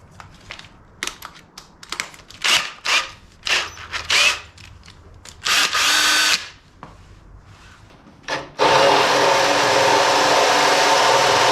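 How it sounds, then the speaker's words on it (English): Power drill boring a hole with the right size bit during front end work on a 105 Series Landcruiser, several short loud bursts of whirring, then a long sustained grinding run at the end, no talk. "And the right size drill bit, of course."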